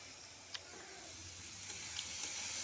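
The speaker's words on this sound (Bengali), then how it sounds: "মশলাটা ভালো করে কষিয়ে নিচ্ছি।" Spice paste with onion fries in a pan, giving a steady soft sizzle and hiss with a few faint stirring scrapes, heard alone at close range.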